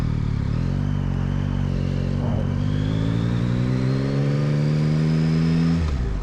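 A 2022 Yamaha MT-09 three-cylinder naked motorcycle revs hard and pulls away, its engine pitch climbing steadily through a gear, loud and close with wind rush underneath.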